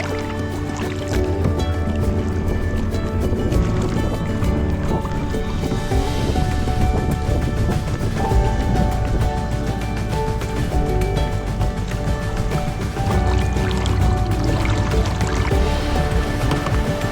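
Kayaks paddling on warm, lapping sea water near the limestone caves of Ponta da Piedade, a continuous wash of water and paddle splashes close by with a faint background hum and no clear talking.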